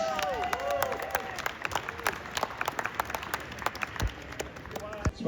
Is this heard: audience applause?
yes